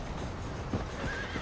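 Horse in the Red Dead Redemption video game gives a short whinny over clip-clopping hooves, close and moderately loud, with no talking.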